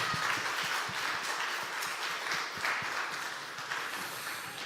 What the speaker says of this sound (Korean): 우리 다시 한번 격려의 축복의 박수.